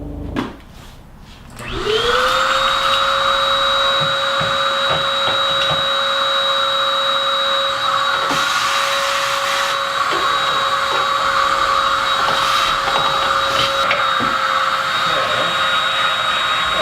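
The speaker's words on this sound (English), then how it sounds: "Do a little bit of vacuum into this stuff." A vacuum cleaner starts up and roars steadily while cleaning the engine bay of a Porsche 991 GTS, loud and close, with faint knocks of the nozzle against parts.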